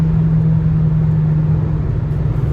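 Steady, loud interior drone of road and engine noise from a VW Golf GTI cruising at about 160 km/h, with no speech.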